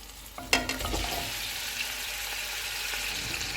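A steady sizzle of chicken frying in a hot pan with ginger-garlic paste, with a sharp clatter near the start as it is stirred, then continuous crackling.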